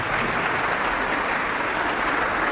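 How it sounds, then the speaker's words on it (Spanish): A church audience gives a dense burst of applause to welcome a brother before a debate. The clapping is loud, even and continuous, with no talk over it. "Un aplauso para el hermano."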